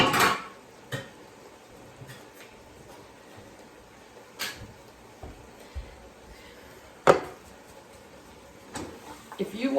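Knife chopping ingredients for an enchilada casserole on a kitchen board, a handful of sparse, sharp clicks and taps spaced irregularly over a quiet room background.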